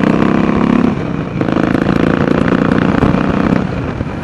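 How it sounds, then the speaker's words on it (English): A 2008 Harley-Davidson Sportster 1200 Roadster cruising on Palos Verdes Drive, its engine rumbling loud and continuous with a brief dip and swell in revs, heard alone. "This is the largest motorcycle, largest displacement I've ever owned"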